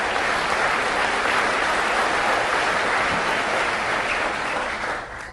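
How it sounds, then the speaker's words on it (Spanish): An audience at a political speech by JD Vance breaks into loud, sustained applause that fills the room evenly, then begins to fade at the very end. "Un aplauso para Bob Paluchik."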